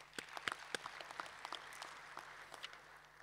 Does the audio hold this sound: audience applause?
yes